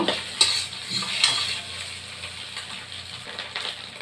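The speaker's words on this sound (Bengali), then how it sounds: "লাল লাল করে ডিমটা আমি ভেজে নেব।" An egg fries in a pan with mustard oil, giving a close, continuous sizzle with a few sharp clicks and spatula scrapes, no voices over it.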